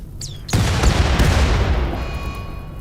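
A huge explosion from the Rimworld video game, with antigrain warheads detonating on an enemy colony: a short whistle leads into a loud booming blast at half a second, then a long rumbling roar that slowly fades and leaves a high ringing tone.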